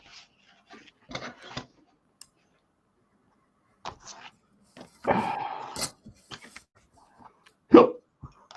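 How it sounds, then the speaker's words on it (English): A few sharp, abrupt hiccups burst out among scattered short noises, with a louder broadband gulp near the middle and another sharp hiccup close to the end, all near and fairly clear. "Oh, hiccups."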